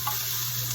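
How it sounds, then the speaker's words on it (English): Onions sizzle in a frying pan during home cooking of taco chips, a steady close hiss of frying with faint stirring, brief and without talk. "I can just watch somebody just doing this in the pan and that's sizzling."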